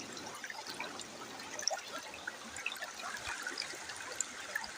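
Strong floodwater rushes past in a steady, broad wash with no breaks, heard from a distance and fairly faint, with no voices.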